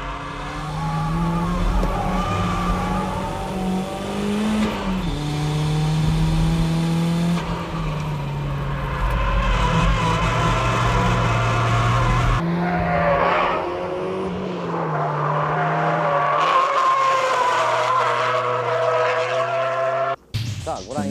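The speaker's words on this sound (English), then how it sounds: "That's how you drift with oversteer cars like the MR2." An oversteer-prone car such as a Toyota MR2 drifts with sustained tire squeal over a steady engine drone, the pitch shifting as the slide changes, loud and continuous until a brief cut near the end.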